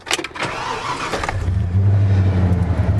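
A 1992 Ford F-150 with the 5.0 V8 and manual 4x4 cranks briefly, catches and settles into a loud, steady low rumble close by, with no voices.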